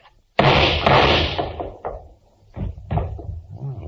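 Banging on a door in an old-time radio drama: a sudden loud burst of heavy pounding and rattling, then several more thuds trailing off and returning in irregular bursts, close and forceful.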